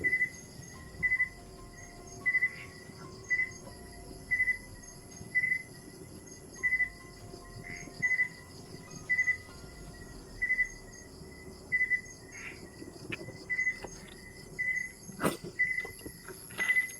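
Crickets chirp in the dark in a steady rhythm, with short bursts of trills repeating about every second for the whole stretch over a low, quiet night background.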